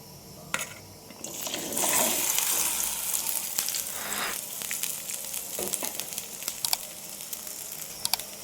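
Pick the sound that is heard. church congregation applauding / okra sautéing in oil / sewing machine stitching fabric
okra sautéing in oil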